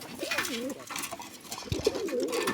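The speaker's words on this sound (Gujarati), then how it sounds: "ચાલો આપણે તમને કબૂતરનું બચ્ચું દેખાડું" A pigeon coos in two repeated throaty phrases, close and clear, with a short gap between them and no talking.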